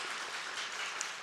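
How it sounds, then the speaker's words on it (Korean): A church congregation applauds during a Sunday worship service to welcome a first-time visitor, a steady wash of many hands clapping at moderate volume for a brief moment with no voices over it. "환영의 의미로 박수 하겠습니다."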